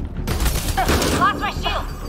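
Rapid gunfire bursts in the sci-fi shooter Mass Effect: Andromeda, loud and close, with voices and electronic chirps mixed in over a steady battle din.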